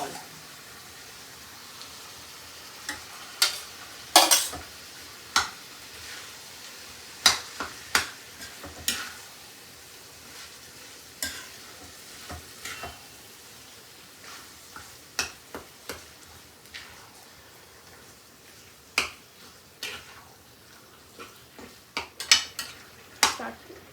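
Chicken lasagna filling with onion being stirred in a pan, a utensil scraping and clinking against the metal in irregular, close taps and scrapes over a low, steady background, with no talking.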